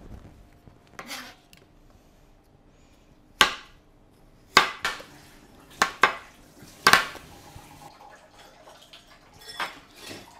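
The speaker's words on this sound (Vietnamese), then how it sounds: "Đấy, thái mỏng như thế. Nào, thái đi." A knife slices food thinly on a cutting board in a home kitchen, giving sparse, irregular sharp chops with quiet pauses between them and no talking.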